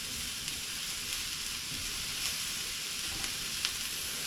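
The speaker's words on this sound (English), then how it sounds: "shallots on a medium heat right now. They're starting to turn on color" Shallots and mushrooms fry over medium heat in a pan, a steady close sizzle and crackle with faint spits and occasional light stirring clicks, and no one speaks.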